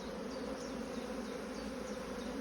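Bees in a strong, open beehive give off a dense, constant buzzing hum. It fills the whole moment evenly, with no talk over it.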